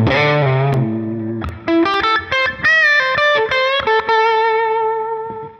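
Electric guitar running into an amp with the input pad off, heavily distorted and effected, a sustained chord followed by a run of sharp picked notes, loud and clear with no talking.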